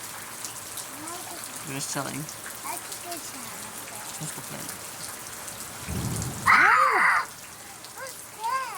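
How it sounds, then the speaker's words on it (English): Steady rain patters throughout a thunderstorm, a continuous hiss under a child's and adult's voices, with a low rumble of thunder midway. "We're having some rain finally."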